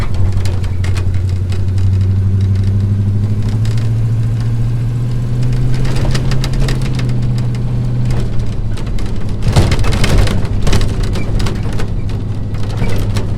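A 1978 Jeep J10 with worn, loose linkage rumbles along a bumpy road, its engine droning steadily with low hum and rattles, jolts and clunks rising near the end.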